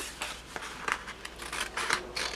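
Scissors snip repeatedly through a stack of paper pages while a simple tab book is made, several short crisp cuts close by with no voices.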